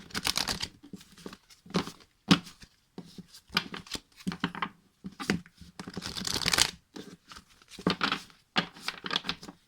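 A deck of oracle cards is shuffled up close, with repeated bursts of papery riffling and slapping separated by short pauses, and no one speaking.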